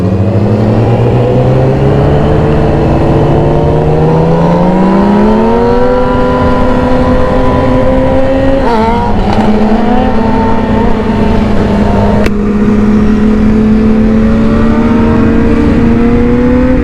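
A motorcycle engine pulls hard while riding at speed, climbing steadily in pitch through the gears with a brief shift dip, then holds a loud, sustained drone alongside wind rush.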